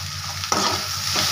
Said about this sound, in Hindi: अब इसमें हम लंबा लंबा कटा हुआ ये शिमला मिर्च डालेंगे।